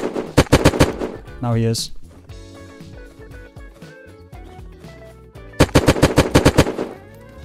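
Rapid bursts of automatic gunfire in the survival game Unturned, a loud volley at the start and another near the end, with a quieter stretch of game sounds between and a player talking over it.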